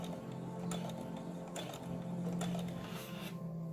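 A sewing machine stitches ruffles onto a shirt with a steady mechanical whir and rapid needle ticking that runs close and continuous for a few seconds before it stops.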